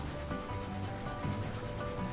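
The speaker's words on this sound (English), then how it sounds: "A lot easier to file them off now with a small sanding stick" Steady, rapid back-and-forth rasping of a small sanding stick filing ejection pin marks off a plastic 1/100 scale model kit part, close and continuous with an even rhythm.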